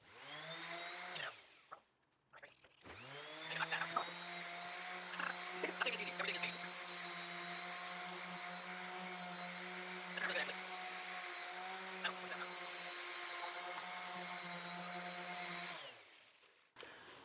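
A palm sander runs on a wooden electric guitar body, a steady tonal whine and buzz that starts, briefly stops and restarts, then holds for over ten seconds before cutting off, close and fairly quiet.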